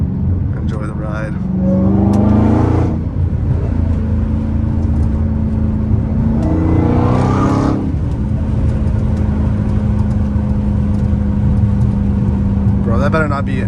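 A Dodge Hellcat Redeye heard from inside the cabin, a loud steady engine drone with two rising acceleration surges and whining pulls, the roar sustained throughout with a brief shift near the end.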